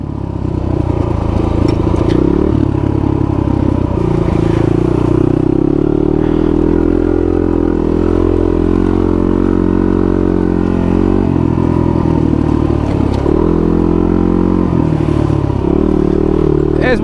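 Kawasaki KLR250 dual sport motorcycle ridden along a dirt single track, its engine droning loud and close throughout, with repeated surges in pitch and clattering from the trail.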